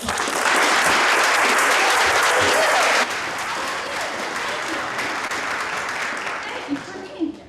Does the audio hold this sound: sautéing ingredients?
no